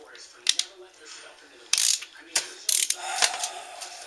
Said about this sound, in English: I'm going to set my torque wrench to the maximum, which is